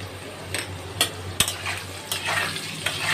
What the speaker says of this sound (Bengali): দিয়ে এবার লাল করে আলুটাকে ভেজে নিই।